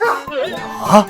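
A dog barks a couple of quick, close yaps within about a second, with a short spoken exclamation overlapping.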